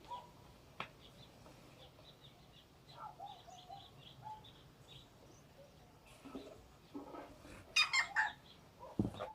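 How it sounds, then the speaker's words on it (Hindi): Birds call and chirp around a hillside home in the morning, with scattered faint chirps early on, then a cluster of louder, sharper calls near the end over a quiet background. "सुबह में कितने सुंदर सुंदर से पक्षियों की आवाज़ें आती रहती हैं, बहुत अच्छा लगता है।"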